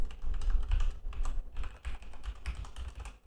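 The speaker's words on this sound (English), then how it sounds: "Type in a password." Rapid, steady keystrokes on a computer keyboard clatter close to the microphone for a few seconds while a password is entered, with no talking.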